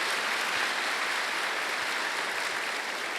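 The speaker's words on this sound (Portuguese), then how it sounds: "Então vamos saudar as vocações com uma grande salva de palmas, né?" Sustained applause from a congregation filling a church during a parish church dedication Mass, a dense, steady clapping wash lasting throughout without pause.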